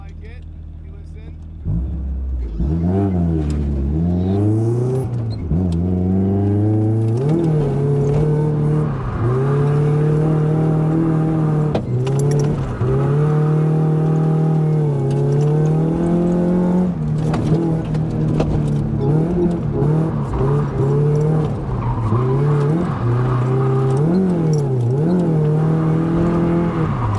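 Mazda Miata engine at a drift event on Long Island revs hard and close, rising and falling in repeated sweeping pulls over nearly half a minute, loud and continuous with some wind or road rush underneath.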